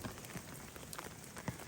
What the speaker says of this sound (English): it's just lightly raining right now